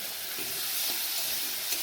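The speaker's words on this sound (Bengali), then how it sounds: "এই ডিমটা আমি কষতে বসিয়ে দিয়েছি" Eggs sizzle and hiss steadily while sautéing for a curry in a hot pan, a soft continuous frying crackle with a few faint stirring clicks.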